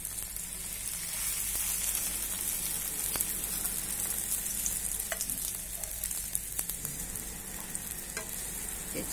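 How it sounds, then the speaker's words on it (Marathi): Round pieces of bread deep frying in ghee give a dense, continuous hiss and bubbling sizzle, close and fairly loud, with occasional small pops and no voices. "तर हे आता आपण ह्याच्यामध्ये डीप फ्राय करून घेणार आहोत"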